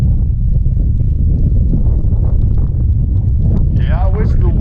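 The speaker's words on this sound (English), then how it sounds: "Yeah, I wish the wind wasn't so bad." Strong wind buffets the microphone out on a fishing boat, a loud low rumble that runs without a break, and a voice talks briefly near the end.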